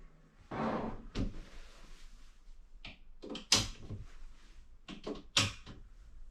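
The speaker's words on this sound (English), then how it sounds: "So now I'm gonna take out the rest of these 11 drawers right here" Drawers of an IKEA Nordli twelve-drawer dresser are pulled out one after another, with scraping slides, sharp knocks and thuds at irregular intervals, close and fairly clear.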